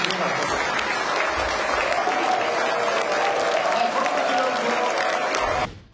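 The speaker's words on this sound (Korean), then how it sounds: "저희도 다 같이 환영의 박수를 한번 크게 한번 쳐주시면 감사합니다" Audience applause welcoming the president at a gathering with business leaders, a full, sustained roar of many hands clapping, loud and even for several seconds before cutting off abruptly.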